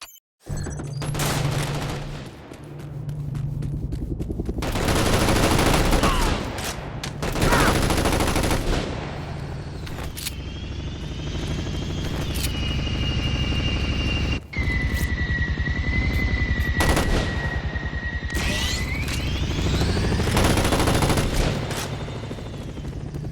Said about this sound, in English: Its meaty mounted machine gun can rip opposing forces to shreds.